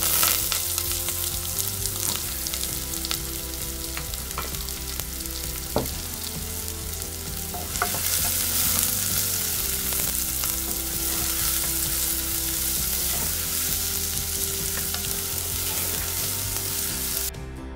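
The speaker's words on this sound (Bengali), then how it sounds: "ঢেলে দিচ্ছি পেঁয়াজ।" Onion frying in hot oil with whole cumin seeds, a loud, dense, continuous sizzle that swells as more goes in, with occasional stirring clinks.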